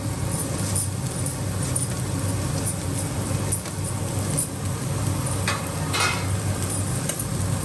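Capsicum and carrot sautéing together in a pan on a low flame for masala lemon rice produce a steady, close sizzle with occasional scraping and stirring clinks throughout.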